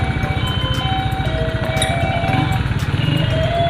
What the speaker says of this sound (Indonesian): Motornya bisa nyala dengan normal ya.